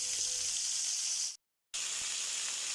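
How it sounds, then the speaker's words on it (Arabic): Egyptian sausage sizzles loudly in a pan with a little oil and pomegranate molasses, a steady bright hiss that cuts out briefly midway before resuming. "بعد ما نحط دبس الرمان ونشوحه تشويحه كويسه"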